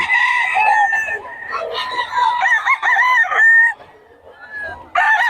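Chickens at a poultry yard in Bocaue crow and cluck close by, with several overlapping drawn-out crows and short clucks in quick succession.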